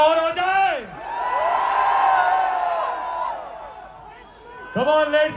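A large crowd in Riyadh roars and cheers for Salman Khan, a long swelling wall of voices bracketed by shouted whoops near the start and end.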